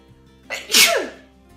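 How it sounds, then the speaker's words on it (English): A single loud sneeze bursts out close by, a short intake followed by a sharp, explosive release that fades within about a second. "I'm going to sneeze."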